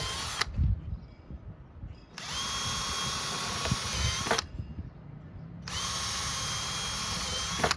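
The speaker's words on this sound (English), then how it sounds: "we'll drill through the center of this big one" A power drill with a smaller bit bores through the center of a large piece for a Kangaroo arcade cabinet conversion, running in two sustained whining bursts separated by a pause with handling clatter.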